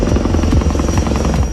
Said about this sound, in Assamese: আকাশত যুদ্ধ বিমানৰ গুমগুমনি